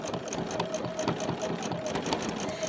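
A sewing machine with a darning foot stitches a pebble stitch in free-motion quilting, a steady rapid needle chatter running evenly and close throughout.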